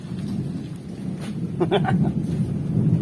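Rain falls steadily outdoors with low rumbling thunder beneath it, a continuous hiss, and a few brief sharper sounds partway through.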